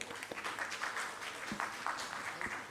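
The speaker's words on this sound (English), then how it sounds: "Let us give them all a thunderous round of applause." An audience at a paediatric endocrinology course applauds, with a soft, continuous patter of clapping heard from a distance at low level.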